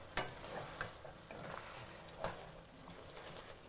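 Pig trotter vermicelli with cooking wine is stirred in a hot pan, soft sizzling with a few faint scraping strokes, quiet and close.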